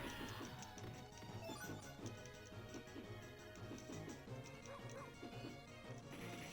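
A small dog barking in the Marvel vs. Capcom fighting game, repeated yips and bow-wows mixed into busy game music and hit sounds, fairly quiet overall.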